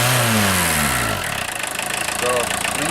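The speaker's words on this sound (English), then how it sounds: "Rev it up a little bit here." A 1981 VW Rabbit engine revs up close by, its tone climbing and falling over a steady running base before settling back toward idle.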